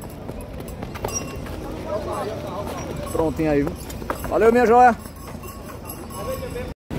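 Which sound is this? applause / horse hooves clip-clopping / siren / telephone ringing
horse hooves clip-clopping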